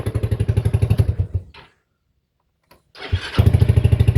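A TrailMaster 300 XRS go-kart engine after carburetor adjustment chugs at a loud, steady idle pulse, cuts out into near silence, then sputters back to life and resumes its rhythmic idle.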